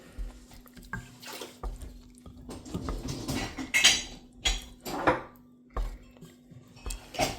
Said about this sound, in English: We're just stirring the melted ingredients, chocolates and the syrup and the butter.